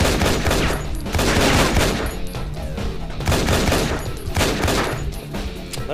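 Enemy gunfire coming through the floor in the Infernal video game, a loud, continuous barrage of shots and impacts in pulsing waves throughout.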